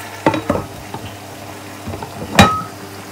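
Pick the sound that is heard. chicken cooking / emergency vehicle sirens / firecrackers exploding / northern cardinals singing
chicken cooking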